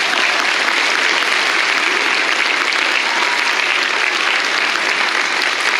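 An audience applauds a local cultural association's theatre group after a stage performance, a dense, even roar of many hands clapping continuously at full strength with no talk over it.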